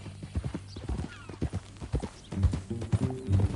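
Horse hooves clip-clop in a Western open-world game, an uneven walking rhythm of distinct hoofbeats close by, with a brief whinny or snort and some low rumbling voices mixed in.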